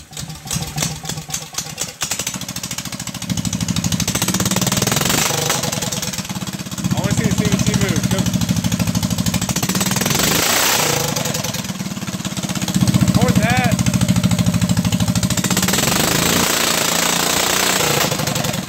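A small go-kart engine mounted with a 40 series CVT sputters to life after a few pulls, then runs with a loud, rapid, rattling idle that rises and falls, with voices talking over it.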